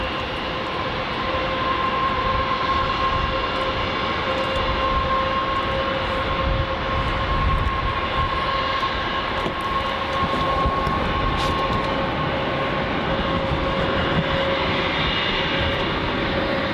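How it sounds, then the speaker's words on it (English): Jetstar Airbus A320 jet engines roaring loud and steady at Melbourne Airport in wet weather, a constant broad rumble with a sustained tonal whine. "Jetstar A320 making a rackus."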